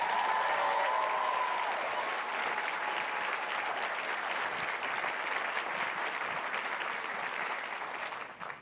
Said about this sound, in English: Now that's worthy of another round of applause.